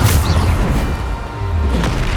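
A Bombarda spell explodes in the Hogwarts Legacy video game: a loud, heavy boom with a deep low rumble and a wash of broad noise that sustains through the whole stretch, with no voices.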